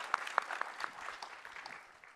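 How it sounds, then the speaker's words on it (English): An audience at an industry conference applauds the panelists: a burst of clapping with a few sharp, loud claps up front, settling into steady lighter applause that gradually fades. "Big round of applause, ladies and gentlemen,"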